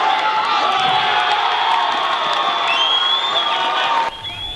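Crowd at a high school wrestling match roaring and cheering, a loud sustained wall of shouts and whoops that drops off abruptly near the end.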